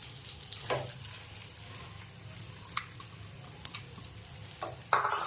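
Grated fresh coconut sautés in ghee in a pan, giving a soft, steady sizzle broken by a few sharp scrapes and clinks from stirring. The sound is close and quiet, with no talk.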